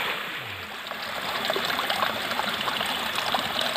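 Forest spring water flowing strongly, a close, continuous rushing and splashing stream that fills the whole stretch with steady, dense texture.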